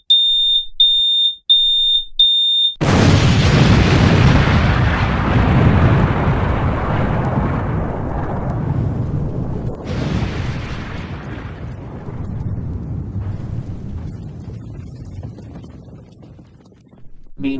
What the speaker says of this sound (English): the TNT fireworks store is going to blow up any second.